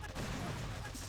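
Barrage artillery fire in the Boom Beach warships game: a dense cluster of booming shots rumbling together under a talking voice, short and fairly quiet.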